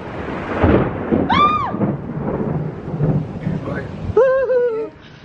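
Thunder rumbles during a thunderstorm, a deep rolling roar beneath excited, overlapping voices that exclaim over it.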